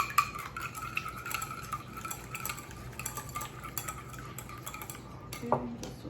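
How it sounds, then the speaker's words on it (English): An egg and a little buttermilk are whisked in a bowl, a fast, steady clinking of metal against the bowl, close and moderately quiet, with a louder knock near the end. "add just a little bit buttermilk, not too much, and whisk this around."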